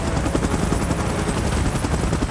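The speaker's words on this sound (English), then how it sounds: "Chopper in position." Helicopter in the PUBG Mobile video game, a dense, loud rotor chop that fills the whole stretch with rapid rhythmic beating and a constant roar, no talking.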